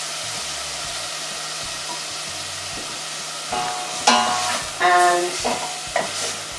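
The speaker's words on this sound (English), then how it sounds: "Stir that till it changes colour." Hot chillies for a vindaloo fry in a pan, a constant soft hiss with scraping stirs growing louder toward the end, and a brief voice murmurs once.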